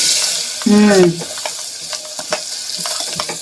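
Potatoes frying with mustard seeds, cumin, curry leaves and asafoetida, a close, steady sizzle with stirring scrapes and a short vocal sound near the start.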